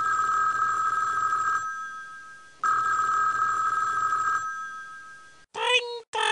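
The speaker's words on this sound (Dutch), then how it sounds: "Elmo vindt het leuk als de telefoon rinkelt." A telephone rings in a 1998 Sesame Street PC counting game, two long electronic ring bursts separated by a pause, clear and close, followed by a brief cartoonish voice.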